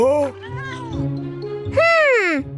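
A cartoon cat meows twice, loud and close, a drawn-out wailing meow at the start and another at the end, over a steady low hum with voices talking in between.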